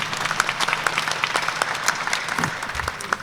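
Applause breaks out for a Family Court Circuit 13 judicial candidate at a local candidates forum, a steady patter of many hands clapping from a mid-sized crowd, moderately loud and continuous.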